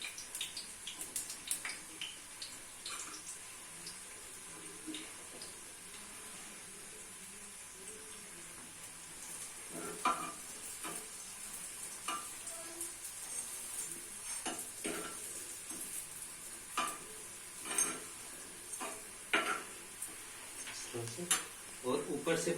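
Burger buns fry in ghee on a flat griddle with a steady low sizzle, broken by scattered clinks and scraping taps of a spatula as the buns are turned and pressed.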